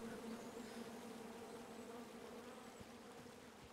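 Steady, faint buzzing of bees swarming in the King's Quest video game, a continuous droning hum with no talking over it.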